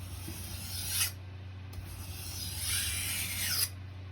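A kitchen knife is stroked across a sharpening stone to raise a burr, after being rattled against a steel, giving two long rasping scrapes, each rising and ending sharply, close and fairly quiet with no talk.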